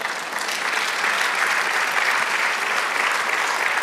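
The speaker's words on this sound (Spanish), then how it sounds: "Dale aplauso al Señor." A church congregation applauding, dense sustained clapping from many hands that holds steady and loud throughout without pause.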